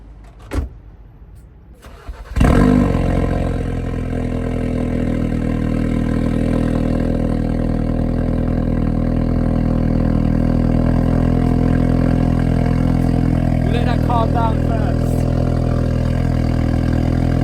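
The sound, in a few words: Ford Focus RS engine cold start and idling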